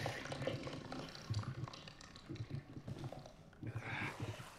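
Hands sloshing and splashing in dirty water in Resident Evil 7, soft irregular liquid splashes and drips in bursts, fairly quiet and close, with no talking.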